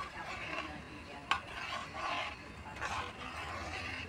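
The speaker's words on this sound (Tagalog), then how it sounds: "Halu-haluin muna natin siya guys." Mung beans being stirred in a cooking pot, with faint, intermittent scraping and rustling swells and one sharp metallic clink of a utensil against the pot, all fairly quiet with no talking.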